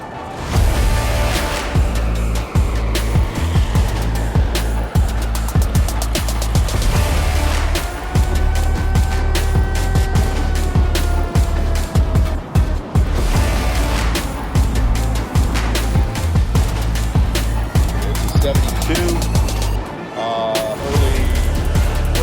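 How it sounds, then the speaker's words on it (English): A 1973 Moto Guzzi V7 Sport being ridden, its V-twin engine thrumming steadily and loudly with rev changes and gear shifts, heavy wind buffeting the microphone at close range. "1973 Moto Guzzi V7 Sport."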